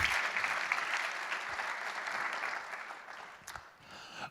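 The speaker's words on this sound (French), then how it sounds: "bien sûr des applaudissements pour eux." A conference audience at the closing keynote of Forum PHP 2025 gives dense, steady applause that holds for several seconds, then thins out and tapers near the end.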